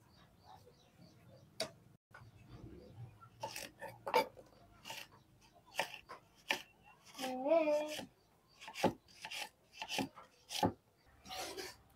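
Knife cutting okra on a board in a rural home kitchen, a sequence of crisp close chopping taps, sparse at first and then quicker and more regular, with a brief voice murmuring partway through.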